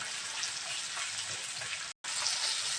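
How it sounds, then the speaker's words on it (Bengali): Chopped onions frying in a pan with small cardamom for a Bihari-style chicken curry with potatoes, giving a steady, close, broadband sizzle throughout, broken by a brief cut of silence near the end. "পেঁয়াজটা আমি একটু লাল লাল করেই ভাজবো।"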